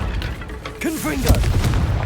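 A burst of fiery spell magic from the Confringo fire spell in Hogwarts Legacy, a loud blast with rising whooshing sweeps followed by a booming impact, set among other combat noise.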